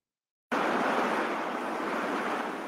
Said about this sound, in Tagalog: Halos iwas-iwas ng malakas na hangin ang mga puno